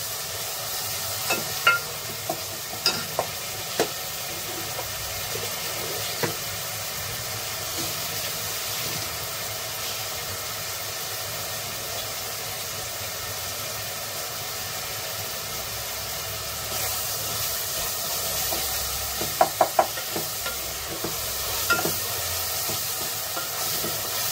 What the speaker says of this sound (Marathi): कांदा असं ना मस्त आपण ना मऊ असं शिजवून घेऊया